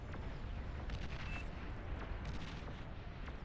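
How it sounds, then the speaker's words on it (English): Dense, continuous rumble of many overlapping explosions and gunfire in an 8v8 match of the real-time strategy game Beyond All Reason, a steady low roar with scattered cracks, fairly faint and without talk. "A lot of explosions, you know,"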